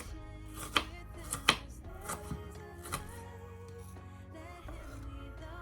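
A knife chopping a leftover onion on a board, several sharp uneven strikes standing out from quiet kitchen background.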